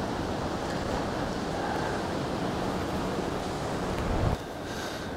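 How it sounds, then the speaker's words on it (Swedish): Wind gusts steadily over a rocky lakeshore while fishing for large perch, a dense broadband rush that holds constant across the whole stretch, with a brief louder buffet near the end and no talking. "Nu blåser det ner från det hållet."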